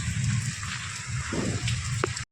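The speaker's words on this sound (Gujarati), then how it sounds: "વરસાદ આવી ગયો" Steady patter of rain falling on surfaces, a continuous hiss with a few louder drops, close by.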